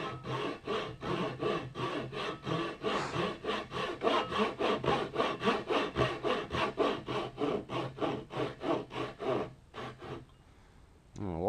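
A Japanese-style pull saw cuts a wooden tenon for a mortise and tenon joint in about twenty-five quick, even rasping strokes, close and loud. The strokes stop near the end, leaving a brief quiet tail.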